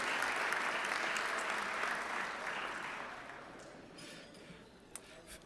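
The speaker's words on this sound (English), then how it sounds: "Let's have a round of applause for our birthdays this week." A room of Rotary club members applauds for the week's birthdays, a dense, steady clapping that starts full and slowly thins out over several seconds, with a faint clink of glass near the end.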